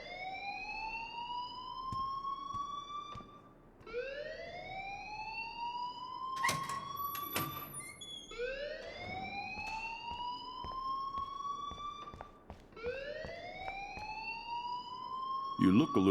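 A building fire alarm in Life is Strange wails in repeated rising sweeps, loud and continuous, with sharp clanks and bursts between cycles and no pause across the whole stretch.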